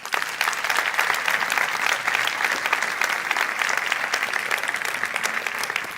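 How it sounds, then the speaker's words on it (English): A conference audience at a UNESCO global forum against racism and discrimination keeps up loud, sustained applause as the moderator is welcomed, a dense continuous clapping with no speech. "Now you keep the applause rolling until she's there."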